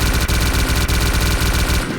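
Rapid automatic gunfire rattles continuously with dense, loud bursts, a machine gun firing in the video game S.T.A.L.K.E.R., with no voices.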